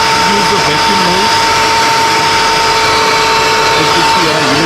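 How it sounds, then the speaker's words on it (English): Wet-carpet vacuum running in vacuum mode inside a Mercedes, a steady loud motor whine with a constant high tone throughout, while someone talks over it. "use the vacuum mode."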